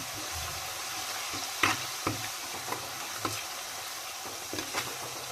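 Ginger, garlic and onion frying in a clay pot, a constant gentle sizzle broken by several stirring knocks and scrapes, close and unaccompanied by speech.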